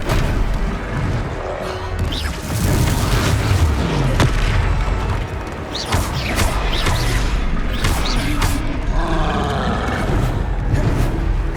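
Confringo explosive spells blast in Hogwarts Legacy, a string of loud booms and crashing bursts with rumbling debris, landing repeatedly over several seconds amid game combat noise.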